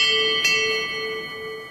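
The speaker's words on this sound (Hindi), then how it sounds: "और जब सुबह की घंटी बजती" A cartoon morning alarm bell rings loud and sustained, with one bright strike partway through and the tone slowly fading, alone without voices.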